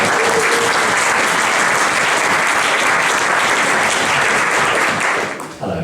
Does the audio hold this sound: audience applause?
yes